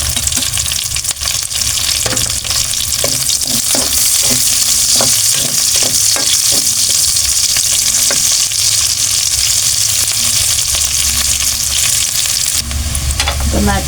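Onions sautéing in a pan after garlic browned, for mixed vegetables with fish bagoong: a loud continuous sizzle, close up, with rhythmic spatula scrapes throughout.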